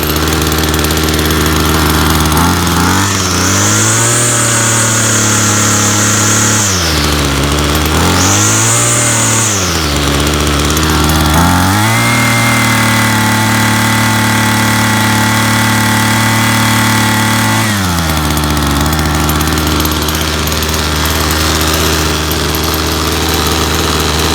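Loud, close running of the 2-cycle engine on a RYOBI EX-26 curved-shaft yard trimmer, with a buzzy idle that rises into several short revs before settling back to a steady idle.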